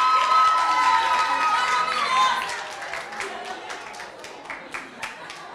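Clapping from a crowd at a graduation ceremony swells briefly, then thins into scattered individual claps, with a voice speaking over the start.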